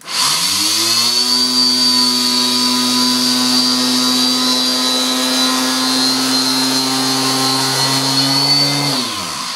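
A power sander running steadily against a stack of wooden fingerboard plies, a loud, continuous high whine and hum that starts abruptly and holds constant for about nine seconds before winding down.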